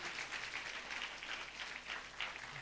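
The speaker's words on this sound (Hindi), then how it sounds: "ताली बजाएंगे जोर से" A church congregation at a Sunday worship service applauds loudly and steadily, a dense continuous wash of clapping from many people filling the room for the whole stretch.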